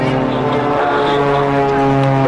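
Aircraft from the Starlings aerobatic team fly at the Southport Air Show 2024, making a loud, steady propeller-engine drone throughout.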